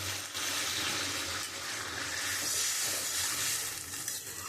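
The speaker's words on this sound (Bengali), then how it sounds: "এবার আমি পরিমাণ মতন জল দিয়ে দেবো।" Water poured into a pan of frying spice paste while cooking a fish-roe and pumpkin curry, giving a steady loud sizzling hiss and bubbling that lasts throughout, with no talk.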